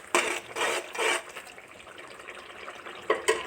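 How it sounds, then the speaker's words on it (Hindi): Water poured into chicken karahi masala frying in a pan, producing several close bursts of splashing and hissing with brief quieter gaps between them. "हल्का सा पानी भी साथ ऐड कर देंगे ताकि ये नीचे ना लगे मसाला"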